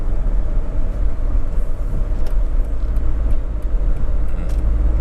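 A 2002 Mercedes-Benz E200 Kompressor Elegance W210 sedan drives on a road, heard from inside the cabin as a loud, steady low engine and road rumble with some wind noise.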